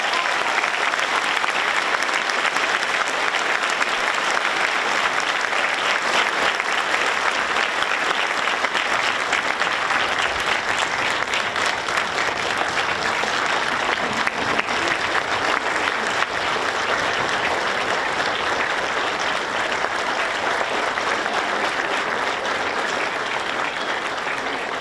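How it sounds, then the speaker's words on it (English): Audience at a Golden West College Regional Criminal Justice Training Center police academy graduation for Class 171 gives a sustained round of applause, dense and steady throughout with no let-up. "please join me in a final round of applause for Class 171."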